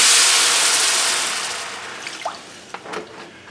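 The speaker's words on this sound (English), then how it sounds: "We're going to deglaze the bottom of this pan now." Water poured into a hot pan after cooking pork steaks sizzles loudly at first and then fades into a softer hiss, with a few small pops and crackles as the pan deglazes.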